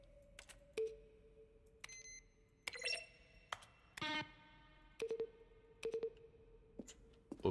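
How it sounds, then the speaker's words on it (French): Short synthesized beeps and clicky keyboard-like taps from in-game buttons in The Stanley Parable Ultra Deluxe sound one after another in an irregular sequence, some with sustained tonal hums, all fairly quiet with no talking. "Une sélection des sons entendus dans le jeu à chaque utilisation d'un bouton."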